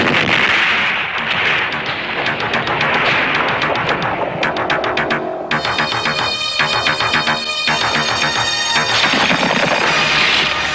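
Sustained gunfire from the sci-fi action film Robowar, a loud, dense stream of rapid automatic bursts that rattles on continuously, with sharp repeating cracks layered over heavy battle noise and no voices.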